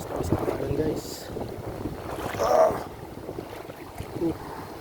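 Strong sea waves churn loudly along a shore at Dao, Antique, mixed with heavy wind buffeting the microphone, with a swelling surge midway and a few faint voices underneath.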